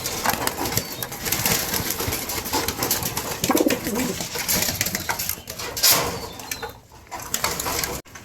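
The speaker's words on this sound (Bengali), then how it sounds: "কবুতরগুলো খাদ্য খাচ্ছে" Pigeons coo close by while eating feed inside a loft, amid busy rustling, fluttering and scraping.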